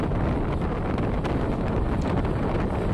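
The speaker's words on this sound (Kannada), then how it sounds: "ತಣ್ಣನೆ ಗಾಳಿ ಬೀಸ್ತಿದೆ" Cold wind blows past a moving train at sunset: a constant loud, broadband rush and buffeting across the microphone, steady throughout with no voices.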